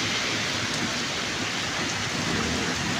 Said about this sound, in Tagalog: Grabing ulan po.